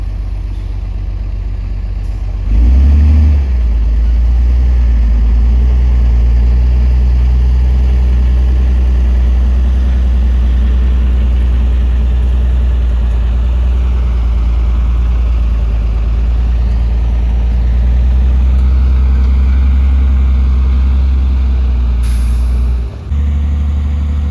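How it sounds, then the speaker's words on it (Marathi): A tipper truck reverses at a highway bypass construction site on National Highway 61 in Parbhani, its diesel engine idling in a steady, loud, low rumble that holds almost unchanged throughout, with no talking. "टिप्पर बघा आता रिव्हर्समध्ये जातो कसा"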